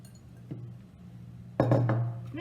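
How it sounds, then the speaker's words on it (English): Soaked paper pulp and its water are dumped into a glass blender jar: a light clink early on, then a sudden loud, sustained wet slosh close by toward the end. "dump your paper inside with all the water."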